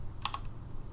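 A computer keyboard being typed on while writing JavaScript code, heard as two quick, crisp key clicks close together near the start, then a faint low room hum with no talking.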